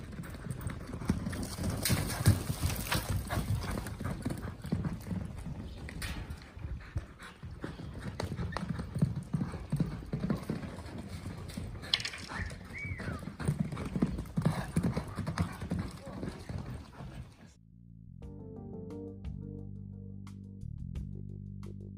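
Horse hooves clip-clop steadily and close at a rodeo, a busy, dense stream of hoofbeats for most of the stretch before a tonal, music-like passage takes over near the end.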